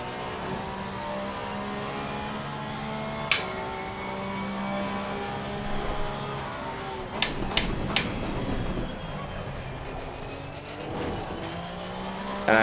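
A race car in a racing video game at the Zolder circuit brakes too hard, and its tires skid and squeal over a constant engine drone. Sharp bumps and clatters punctuate the noise toward the end, and no one speaks.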